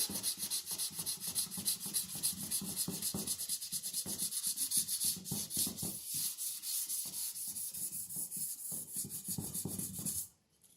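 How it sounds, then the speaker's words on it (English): Sandpaper rubbing back and forth across a Buick's car body panel, a steady close scratchy rasp in quick repeated strokes that stops abruptly near the end. "The sandpaper wants to go easy this way, but coming across this way, it's a little harder."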